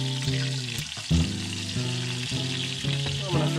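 Brown trout sizzles steadily in a cast iron skillet, a close, continuous frying hiss beneath a prominent melodic backing tune.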